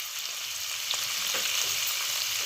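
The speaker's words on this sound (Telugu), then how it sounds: "సో ఈ టైంలో కొంచెం ఉల్లిపాయలు వేగాలండి" Onions fry in a pan for a curry, giving a steady, fairly soft hiss of sizzling oil with a few faint stirring scrapes and no talking.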